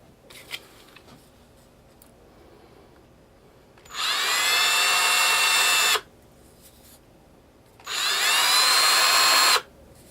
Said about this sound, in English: countersink a little bit this hole, so this screw will fit flush